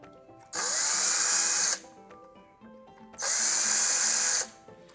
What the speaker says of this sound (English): the drill bit is naturally going to wear away at the PLA